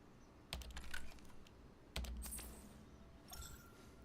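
A few bursts of keyboard key presses and clicks while playing the game Once Human, close by, in short clusters separated by pauses, with no talking.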